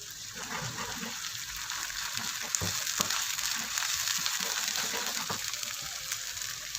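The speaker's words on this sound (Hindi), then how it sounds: "थोड़ा सा पानी डालकर हमने इसकी अच्छी तरह से भुनाई करनी है, तकरीबन 8 से 10 मिनट तक" Ginger and green chili paste for sarson ka saag fries in a pan with a little water, giving a steady, loud hiss with occasional soft clicks and stirring, no voices.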